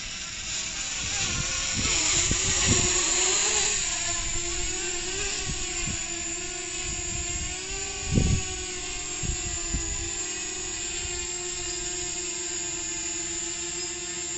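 A DJI Mavic Mini 2 camera drone's steady high-pitched propeller whir hums continuously, its pitch shifting slightly as it climbs, with occasional thumps nearby.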